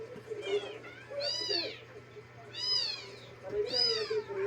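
Orphaned kittens meow repeatedly in rising, drawn-out cries while being fed milk, three or four clear calls close by over a low steady hum.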